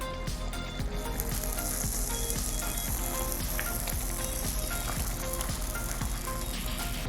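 Pancuko, a Nigerian dish, sizzling and frying steadily on a stovetop, a continuous close crackle with faint periodic scraping from stirring, no talk.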